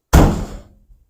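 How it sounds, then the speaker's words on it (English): Door of a 1970 Chevrolet C10 pickup truck fitted with an easy door latch kit, shut firmly once: a single loud solid thunk that rings out briefly and fades within a second. "So when you shut this door like you own it, she's in there."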